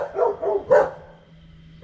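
Several dogs bark near a home garage workshop: a quick burst of three close, loud barks, a short pause, then one more sharp bark at the end.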